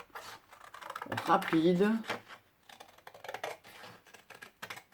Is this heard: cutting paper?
yes